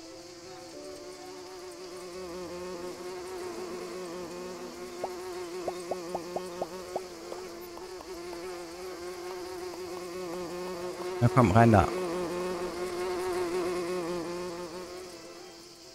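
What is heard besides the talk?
bees buzzing in the video game Everdream Valley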